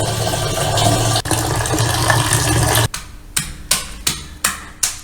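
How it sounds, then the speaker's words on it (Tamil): Water is poured over rice and lentils in a kitchen to soak them, making a steady splashing flow for about three seconds, followed by a run of sharp, evenly spaced clicks. "அரிசி பருப்பு எல்லாத்தையும் கழிஞ்சிட்டு தண்ணி ஊற்றி கொஞ்சமாக ஊற வச்சிடலாம்"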